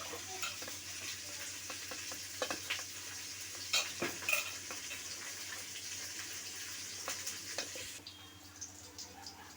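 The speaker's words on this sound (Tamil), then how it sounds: "வெங்காயம் போட்டு நல்லா கொஞ்சம் வதங்கட்டும்." Onions sauté in oil in a home-kitchen pan, a steady soft sizzle running throughout with occasional clinks and scrapes of a stirring spoon against the pan, no voices.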